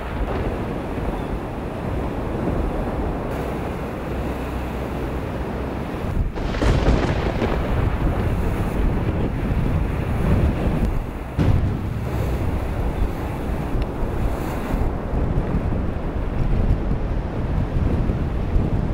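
Strong wind at sea roars steadily against the microphone during a thunderstorm, with deep rumbling thunder bursts rolling through gusts of around 60 knots.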